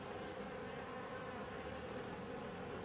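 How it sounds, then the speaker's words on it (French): A steady, soft hum of many honeybees buzzing close by on hive frames, continuous and even throughout, with no voices. "il y a pas mal d'abeilles"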